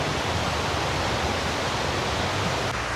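Dense, steady roar of a fast-flowing waterfall beside a suspension bridge and boardwalk, filling the whole clip at constant loudness with no voices.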